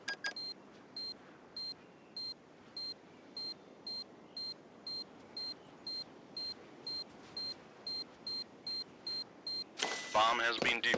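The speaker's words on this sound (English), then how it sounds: "Bomb has been planted." Planted bomb in a Counter-Strike match beeps steadily, about two evenly spaced beeps per second over low game ambience, before a burst of louder action noise at the end.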